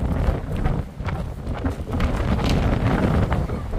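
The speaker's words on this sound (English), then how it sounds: "It's very windy." Strong wind buffets the microphone in heavy, continuous gusts at Pyramid Island and Patricia Lake in Jasper, with a low roaring rumble throughout and no voices.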